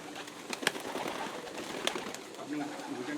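Young pigeons cooing indoors in a room where high-flyer pigeons are kept, soft murmuring coos and a few sharper bird calls scattered over a steady close background.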